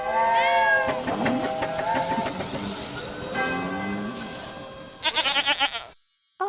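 A goat bleats several times in long, wavering cries, loud and close, then a burst of short rapid bleats before it stops.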